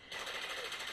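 Rapid, steady machine gun fire from the Frontline Tactics video game, a continuous rattling burst of evenly spaced shots at fairly low volume.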